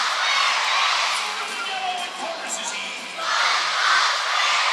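Hockey arena crowd at a Jacksonville Icemen vs South Carolina Stingrays game chants SpongeBob SquarePants, a loud, steady roar of many voices filling the building, swelling again toward the end.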